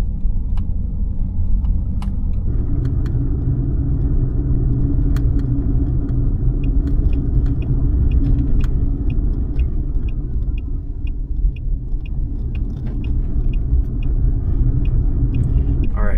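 Steady low road rumble and tire noise inside a 2024 Tesla Model X Long Range with Hardware 4, driving on a public road, with faint clicks of indicator or cabin sounds throughout.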